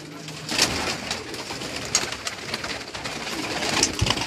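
Pigeons on a Karachi rooftop coo repeatedly, close by, with soft throaty calls recurring every second or two over light ambient rustle.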